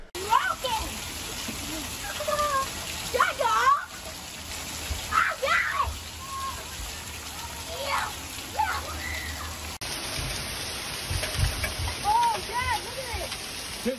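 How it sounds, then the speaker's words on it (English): Hail pelting down during a severe hailstorm, caught on a phone: steady dense spattering and drumming of ice on surfaces throughout, with people talking nearby over it. "They were having a crazy, crazy hailstorm."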